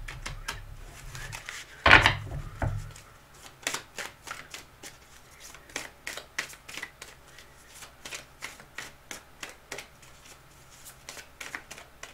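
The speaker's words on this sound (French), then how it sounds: "On va prendre une carte avec l'oracle de l'esprit aborigène." Oracle cards from an Aboriginal spirit deck are shuffled and drawn. A loud thump opens it, followed by a long run of crisp, rapid card clicks and riffles, close and alone, with no talk.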